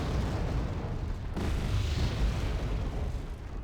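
Artillery shells landing in the war strategy game Wargame Red Dragon, a dense continuous rumble of distant explosions with a heavier boom partway through.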